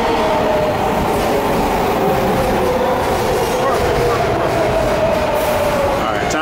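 Continuous rumble and rattle of a moving train near Reykjavik, Iceland, with faint rhythmic clatter and a thin wheel squeal running through the ride.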